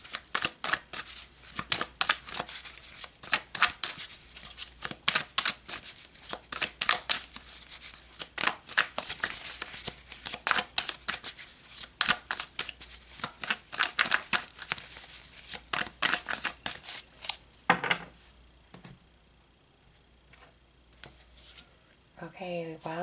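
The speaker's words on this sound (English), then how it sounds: "let's pull some more cards" Tarot cards are shuffled and riffled rapidly up close, a long run of crisp flicking bursts that pause briefly before a few more card handling sounds.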